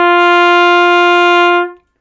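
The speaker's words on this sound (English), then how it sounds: "Then you blow air through to make a sound like this." A single sustained brass buzz from lips blown through a trumpet mouthpiece alone, one steady tone held for about a second and a half before fading out, close and loud with nothing else around it.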